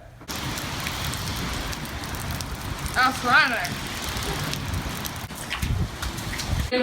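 Steady rain falling on a surface, a continuous crackling patter used as a weather-report sound effect, with a voice speaking briefly over it.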